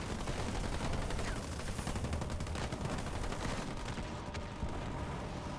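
Battle noise from Halo Wars 2 with sniper fire: dense, overlapping gunfire and explosions form a continuous loud clatter throughout, with sharper cracks poking out of the din.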